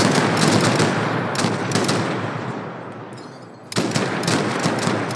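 Video game gunfire rattles in dense automatic bursts with distant, echoing shots, continuous for several seconds, briefly easing before a fresh volley resumes, with no talk over it.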